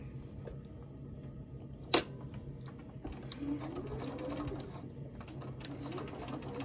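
A sewing machine stitches a crochet panel bag, running at a quiet, steady hum after a sharp click near the start, close by with no talking.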